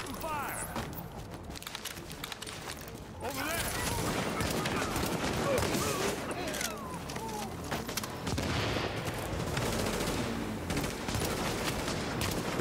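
Dense, rapid turret gunfire in a shooter video game rattles on continuously, loud and sustained, mixed with scattered shots and battle noise.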